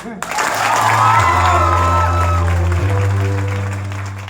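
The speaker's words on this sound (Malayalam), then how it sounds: "അപ്പൊ പാലക്കാട്ടിലേക്ക് എന്തെങ്കിലും ഒരു നല്ലൊരു കൈയടി" Steady audience clapping at an experience-sharing gathering led by NTC leader Muraleedharan, filling the room for several seconds with sustained musical tones underneath, then tapering off toward the end.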